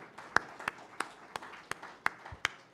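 Audience clapping at an award ceremony in New Delhi, heard as about eight sharp, evenly spaced claps over a soft room murmur, with no one speaking.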